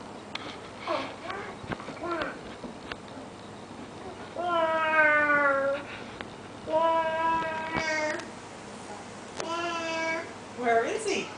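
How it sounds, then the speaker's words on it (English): A cat meows several times in drawn-out, rising calls, three longer cries in the middle, in a home setting with soft child babble and sniffing between them. "Get the cat. Where's the cat?"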